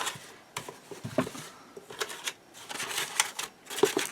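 Scissors snip through paper while a journal cover is trimmed during a Bird Watcher Duo mini album project, giving a series of close, crisp cuts and rustles in short, irregular bursts.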